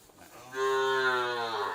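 A single cow lets out one long, loud, close moo at a cattle market where cows with their calves, brought from Myanmar, are being sold; there is no talk.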